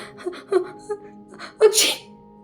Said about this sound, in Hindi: गुस्से में उन्होंने छींक दिया